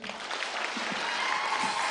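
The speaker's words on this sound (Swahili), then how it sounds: "Pigeni DG makofi." Audience at a Nyandarua County security forum clapping, a short dense burst of applause from many hands, steady and fairly loud throughout.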